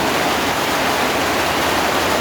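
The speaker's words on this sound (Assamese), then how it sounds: "তাৰপিছত ধাৰাসাৰ বৰষুণ দিলে" Heavy downpour of rain pouring off a tin roof, a dense, steady roar of falling water that stays loud and unbroken throughout, with no voices.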